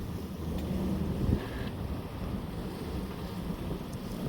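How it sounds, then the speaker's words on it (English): Strong wind blows over a sailing boat at sea, a steady low roar buffeting the microphone, with a slight surge partway through and no voices. "that big gust that just blew up out of nowhere"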